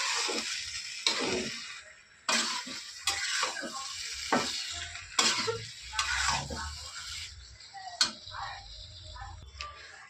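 Soybean and egg curry being stir-fried in a pan, with sharp spoon scrapes and clinks against the pan in an irregular rhythm over a low sizzle.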